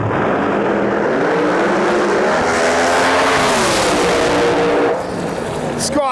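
A pro mod drag race car nicknamed Cheeto roars down the strip at the U.S. Street Nationals, its loud engine note rising in pitch through the run before fading, with a commentator talking over it.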